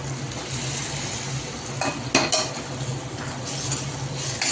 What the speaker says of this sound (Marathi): चांगलं याला मिक्स करून घ्यायचं।